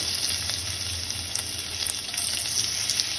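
Whole cumin seeds and a bay leaf sizzle steadily in hot oil for a spiced kidney bean curry, a constant close frying hiss with faint crackles and no talking.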